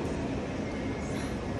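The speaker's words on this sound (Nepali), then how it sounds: "हामी चाहिँ ब्राइटनको ट्रेन चढ्यौँ" A train bound for Brighton rumbles along in a steady, even drone heard from inside the carriage, low and continuous with no voices.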